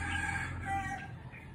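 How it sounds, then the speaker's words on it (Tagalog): Chickens or other birds calling outdoors, a faint, brief flurry of clucking-like calls over steady background noise, with no talk. "may mga ibon dami"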